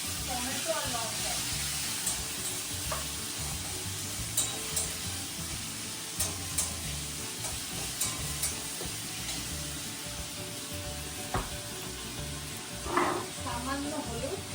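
Ginger, tomato and chilli fry in a pan with a steady broadband sizzle, broken by occasional scrapes and stirring clatter, with a louder burst of spatter near the end.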